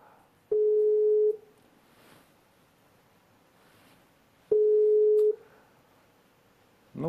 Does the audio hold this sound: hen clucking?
no